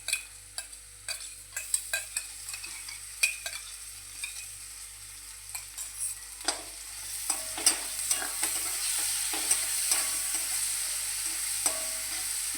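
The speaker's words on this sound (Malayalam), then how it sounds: "ഇഞ്ചിയും പച്ചമുളകും വെളുത്തുള്ളിയും കൂടിയിട്ട് ഒന്ന് ചേർത്ത് കൊടുക്കാം നന്നായിട്ട് എന്നിട്ട് അതൊന്ന് മൂപ്പിച്ചെടുക്കണം" Ginger, green chili and garlic sautéing with onion in a pan for a cauliflower masala curry, a steady sizzle broken by frequent sharp scrapes and clicks of stirring, close and alone without talk.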